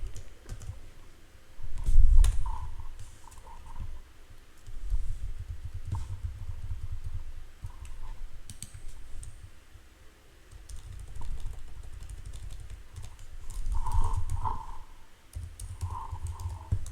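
Keys clatter on a computer keyboard in steady bursts of typing, close and fairly loud, with irregular clicks running throughout and no talk.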